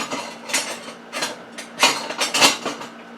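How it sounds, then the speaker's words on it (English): A metal spoon rattles and clinks against other cutlery in a kitchen while someone bakes meringue and cherry pies, giving a run of sharp, close, irregular taps and jangles with no talk. "trying to get a spoon"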